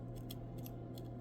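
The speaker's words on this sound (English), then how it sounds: "So I am going to cut this flower out" Scissors snip a paper flower out of a scrapbooking page, with several quick, crisp close cuts in an uneven rhythm over a low steady background hum.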